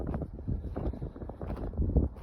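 Gusty evening wind in a farm field where a T-25 tractor is ploughing buffets the microphone with low rumbling bursts, continuous and close, with no voices.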